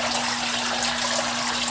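Water pouring steadily through a homemade aquarium filter with foam media, a constant close splashing rush over a low electrical hum.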